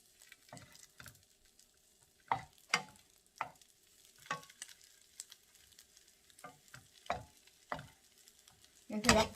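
Green chili pancakes (풋고추전) of minced chili cook over low heat in a pan, giving soft sizzling broken by repeated sharp scraping and stirring bursts from a spatula, fairly quiet with no talk.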